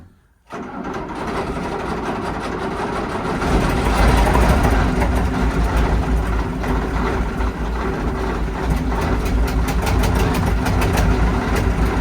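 Heavy engine of an OT64 SKOT armoured car running rough on only some of its cylinders, loud and close, with an uneven lumpy idle that picks up and keeps churning after a brief start.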